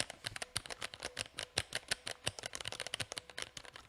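Keys clatter in a fast, uneven stream of crisp, close clicks as someone types on a Vortex mechanical keyboard.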